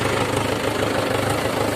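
A tractor engine idles steadily throughout, a continuous low mechanical rumble with a faint knocking pulse, close and fairly loud, with no voices, on a farm where threshing work is about to begin.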